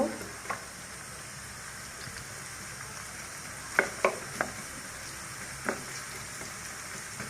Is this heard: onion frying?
yes